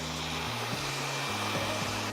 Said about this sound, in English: put the concentrator on and direct the pressure of the air in the direction you want to wear the hair